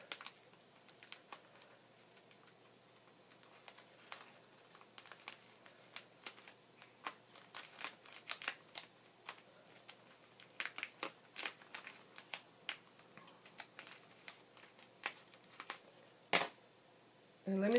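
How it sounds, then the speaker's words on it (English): Adhesive being peeled off a scrapbook album page, heard as a quiet run of small crinkly ticks, tearing clicks and scrapes, close and intermittent, with a sharper snap near the end. "So I'm going to start peeling the adhesive off."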